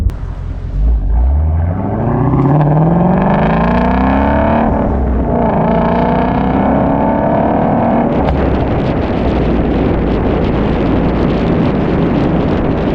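A Shelby GT350 sports car engine with loud exhaust roars close by, revving up through rising pitches, easing off, then settling into a steady loud drone with rushing wind noise.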